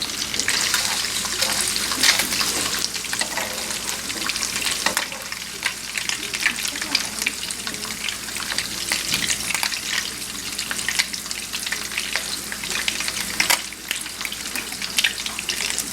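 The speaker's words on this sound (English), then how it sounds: "I'm going to go ahead and put my turkey bacon in there. And you can hear it sizzling." Steady, crackling sizzle of turkey bacon frying in a hot pan, continuous and close, with faint clinks and splashes of water in the background.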